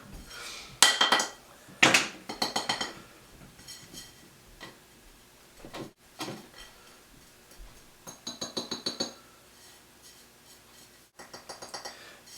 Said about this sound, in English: So I'm probably just going to toss this stuff in the jar